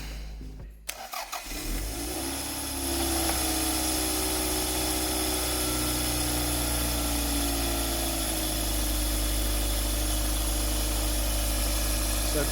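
An engine cranks briefly, catches and settles into a steady, loud idle that runs without a break, close to the microphone, with no voices over it.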